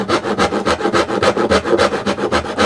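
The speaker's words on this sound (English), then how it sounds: "I'm going to come in like this, and I'm going to start my sawing here" A hand saw cuts through wood in quick, rhythmic back-and-forth strokes, each rasping pass close and loud.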